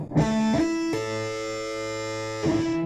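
A single electric guitar plays a short sweep-picked phrase in which one note rings on beneath the next, with a few overlapping notes sustaining loudly over about three seconds.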